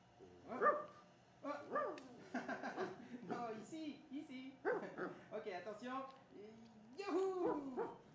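A dog barks and yips in short bursts during play, close by, mixed with an excited person's talk and laughter throughout.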